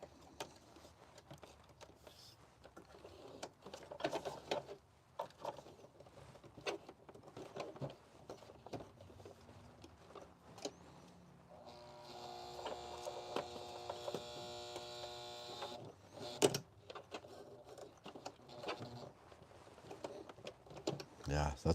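An electric sewing machine stitches a strap on a military surplus ALICE pack, its motor whirring steadily for a few seconds midway through, under a low background hum and scattered handling noises.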